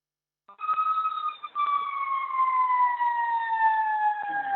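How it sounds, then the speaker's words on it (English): Emergency vehicle siren wails loudly and steadily, its tone gliding slowly downward for several seconds after a sudden start, heard alone without talking. "I can hear you with the sirens."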